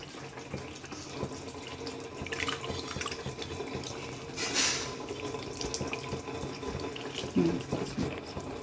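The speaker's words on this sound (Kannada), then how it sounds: "ಇವಾಗ ಇದೇ ಬೇಳೆಗೆ ಇವಾಗ ನೆನೆಸಿಟ್ಕೊಂಡಿರೋ ಹುಣಸೆ ಹಣ್ಣನ್ನು ನಾನು ಇದಕ್ಕೆ ಹಾಕ್ತಾ ಇದ್ದೀನಿ" Soaked tamarind is poured into cooked dal in a pot while making rasam, a soft wet splashing and trickling pour with brief louder gushes, fairly quiet and close.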